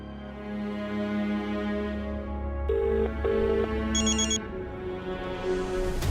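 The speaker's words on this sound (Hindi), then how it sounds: "ज्योति को फोन लगाता हूँ" An outgoing phone call ringing in a Hindi TV comedy scene: a short run of electronic ring tones over steady background music, with no voices.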